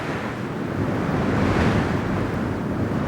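Angry seas crash against craggy cliffs in a continuous, loud roar of surf with wind rumble, swelling slightly mid-way, no voices.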